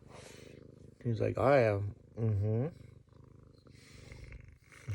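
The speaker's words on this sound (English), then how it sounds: "listen to that motor purr" A house cat purrs steadily in a low continuous rumble close to the microphone while a person talks affectionately over it.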